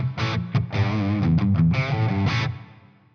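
A Gibson Les Paul Slash Jessica guitar through a Marshall amplifier on its crunch channel plays a short distorted riff of chords and notes, loud and close, ringing out and fading at the end.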